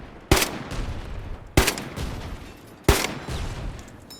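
Grenade launcher in the game Squad firing three evenly spaced loud shots, each a sharp boom with a short rumbling tail, nearby and with no talking.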